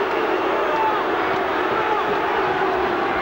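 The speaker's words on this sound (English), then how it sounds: "The crowd, well, they don't like it." Rugby league crowd at a 1989 Auckland versus Australia match, unhappy after a disallowed try, producing a steady, dense wash of murmuring and jeering voices throughout with no clear breaks.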